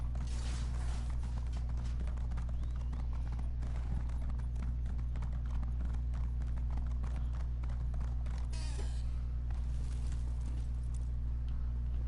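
Hooves of a rider's horse in The Elder Scrolls Online, a steady near clip-clop rhythm running throughout over constant low background drone, with an occasional creak and no talk.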